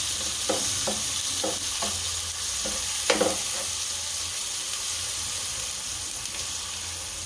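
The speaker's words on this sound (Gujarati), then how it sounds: "હવે ટમેટા કકડાઈ નાખશું, કકડવા દઈશું ખાલા।" Chopped tomatoes sizzle steadily in hot oil while a stuffed bitter gourd curry cooks, with a few soft stirring scrapes and clinks of a spoon against the pan over the constant frying hiss.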